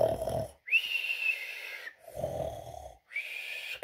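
A voice imitates a sheep snoring: three drawn-out snores, each a rough, snorting in-breath followed by a thin whistling out-breath, close and fairly quiet, with no other sound.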